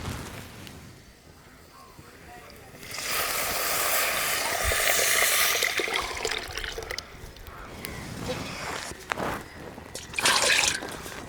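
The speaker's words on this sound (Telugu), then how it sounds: "ఇప్పుడు మనం సాంబారు పోసేసుకుందాం" Sambar for sambar vada is poured into a pan of fried onions, a wet gush and splatter rising midway over a quieter start, then trickles, drips and sizzling bursts toward the end.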